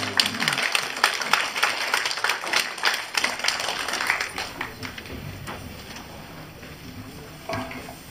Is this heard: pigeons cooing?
no